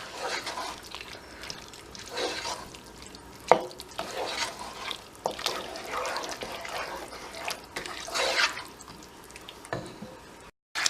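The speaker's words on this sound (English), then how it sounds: "Make sure it's on a low heat and start to stir in all of the sauce." Lasagne sauce being stirred in a pan over low heat: soft, uneven scraping and sloshing strokes repeat across the stretch, with a few sharper clinks, close and fairly quiet, with no talking.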